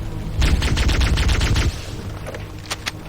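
Shotgun fire in the video game Halo: Combat Evolved, a rapid burst of loud booming shots for about a second, then a pause and two sharper shots near the end, with no voice over them.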